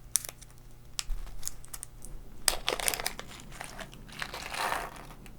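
A plastic parts bag for an Uno L298N robot car kit is opened and emptied, giving brisk crinkles and scattered small clicks and rattles of little parts, close up and fairly quiet.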